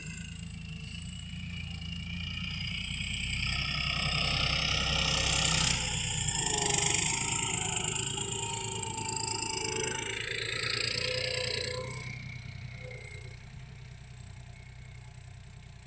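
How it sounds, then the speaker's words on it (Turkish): A Massey Ferguson 240 tractor engine drones steadily while plowing a field, a continuous mid-pitched rumble with some clatter that rises slightly in the middle and stays fairly distant throughout, with no talking. "Şurada da 240 traktörümüz var."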